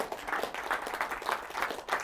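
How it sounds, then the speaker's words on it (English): A crowd applauds steadily, a dense patter of many hands clapping together for two seconds without pause. "Let's give him a huge round of applause"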